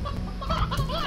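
Chickens cluck in short, close, busy bursts in the video game Slime Rancher, several birds overlapping briefly with no talk.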